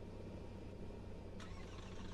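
Steady low engine drone from a flying video game aircraft, a continuous hum holding level throughout with a brief brighter burst midway.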